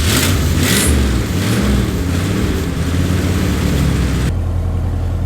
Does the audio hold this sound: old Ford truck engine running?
yes